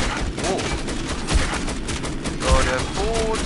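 Gunfire in the video game Metro 2033, a burst of several close, loud shots fired in quick succession under continuous game noise, with someone talking alongside.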